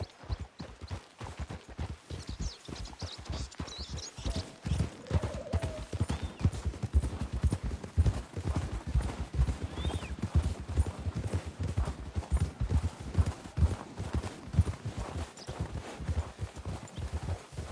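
Horses clip-clop steadily along at a walking pace, hooves striking in a continuous uneven rhythm at moderate distance.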